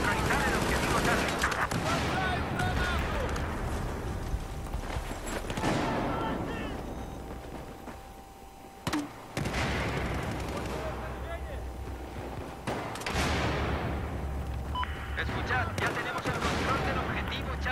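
Rapid bursts of gunfire in a tactical shooter game, several loud volleys separated by brief pauses, with a player's voice talking over the shooting at times.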